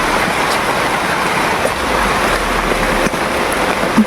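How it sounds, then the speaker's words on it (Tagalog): Heavy rain pours in a dense, steady broadband wash, loud and close, with occasional small knocks and no voices. "Yan, lumalakas na po ang ulan."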